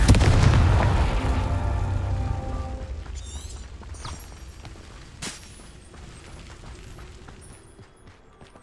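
A Confringo fire spell in Hogwarts Legacy bursts with a heavy booming explosion that rumbles loudly at the start and slowly fades. Scattered crackles and a sharp pop follow in the dying tail.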